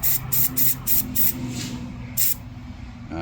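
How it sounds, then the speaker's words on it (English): An airbrush with a large nozzle sprays paint onto a Tamiya FAV model kit in short loud hissing bursts, about five in a row, then a pause and one more burst over a faint low hum. "Now there's quite a large orifice on this airbrush, so you can't really tune it to get a fine line."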